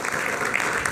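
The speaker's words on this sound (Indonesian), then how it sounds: "Kita berikan tepuk tangan dulu." Audience applause at an Indonesian talk show, a brief steady patter of clapping from a crowd with faint voices mixed in.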